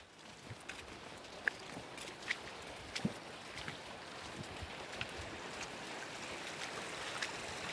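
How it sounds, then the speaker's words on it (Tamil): Water running down from the mountains at an outdoor riverside site, a faint steady rushing flow with scattered small splashes and knocks over it, distant and continuous. "இங்கே வரும் மலையிலேருந்து வருது தண்ணி."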